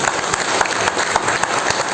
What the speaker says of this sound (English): I just want a big clap for the students